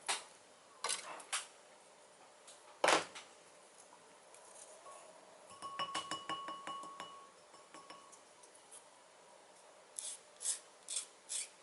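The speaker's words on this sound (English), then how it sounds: "resin flashing from this area, so I'm just sanding it down." Fine sanding of a resin model kit part, a hobby conversion kit head piece, heard as soft close rasping strokes with a few light taps and clinks in quiet surroundings.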